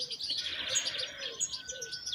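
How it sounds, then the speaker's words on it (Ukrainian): Birds chirp and trill at sunrise in quick, overlapping bursts, fairly close, with a quiet background and no voices. "Дуже прекрасно співають пташки."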